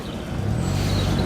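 Pontiac Trans Am car arriving at a classic car show, a loud, close, steady low engine rumble that swells slightly as it rolls past.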